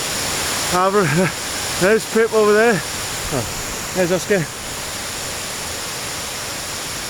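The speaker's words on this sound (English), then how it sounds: "we have a bit of a river crossing." A river rushes at a crossing on Scafell Pike, a continuous broadband roar of water in the background. Someone talks briefly in a few short phrases over it.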